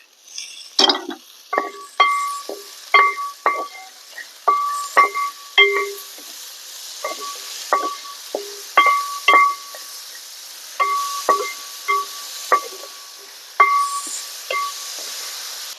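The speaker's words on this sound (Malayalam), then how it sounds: "രണ്ട് തക്കാളി അരിഞ്ഞു വെച്ചതും കൂടെ ഇട്ട് കൊടുത്തിട്ട് നമുക്ക് നന്നായിട്ടൊന്ന് ഇളക്കാം" A spoon stirs garlic, ginger, salt and chopped tomatoes in a pan for a Kerala kovakka theeyal, giving a steady run of sharp metallic clinks and scrapes in an uneven rhythm, close and fairly loud with no talk.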